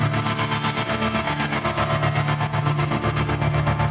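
Processed guitar runs through a Meris LVX delay pedal set for dynamic swells, giving a dense, steady wash of sustained, layered tone with no clear attacks, close and continuous throughout.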